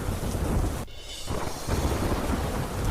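Heavy rain pours steadily in Valsad, a dense continuous hiss with a deep rumble of thunder rolling beneath it throughout.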